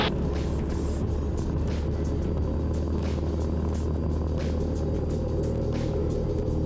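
Small plane engine at full power during a takeoff roll, a steady loud droning rumble held throughout with a constant tone and faint intermittent clicks above it.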